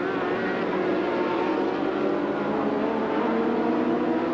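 Racing motorcycles at the 1991 Macau Grand Prix, a sustained high engine whine from the race pack that holds steady and fairly loud throughout, with no commentary over it.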